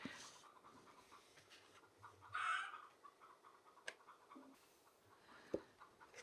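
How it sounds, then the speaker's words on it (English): Backyard chickens make soft little clucks and murmurs in quiet surroundings, faint and scattered, with a few brief sharper sounds standing out here and there. "The chooks are making funny little noises at the moment."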